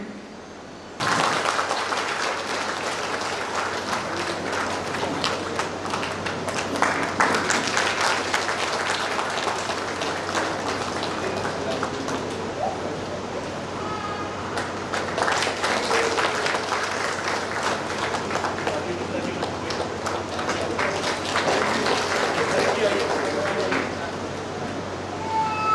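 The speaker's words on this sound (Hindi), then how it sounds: "जोरदार तालियों से स्वागत।" A crowd at an official interaction program with village heads in Garhwa district gives a loud welcoming round of applause, dense clapping that starts abruptly, swells and eases in waves, and holds for over twenty seconds with faint voices beneath.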